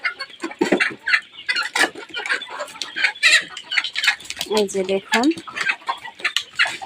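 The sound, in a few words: roosters clucking on a poultry farm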